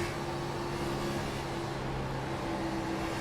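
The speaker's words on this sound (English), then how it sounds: "As you can hear, he's lifting just a little bit." Race car engine in an Elite Series race, droning steadily and close as the driver eases slightly off the throttle, a sustained hum with no talk over it.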